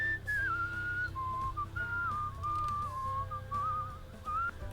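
A character in the video game Where The Water Tastes Like Wine whistles a quick, wandering tune alone over a low background hum.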